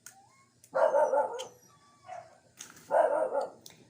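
A dog barks in two short bursts, fairly close, with quieter yips between them.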